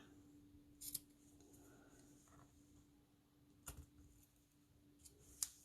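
Scissors trimming ribbon for a handmade card make a few sharp, quiet snips spaced apart in a near-silent room with a steady low hum.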